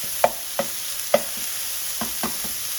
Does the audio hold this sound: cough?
no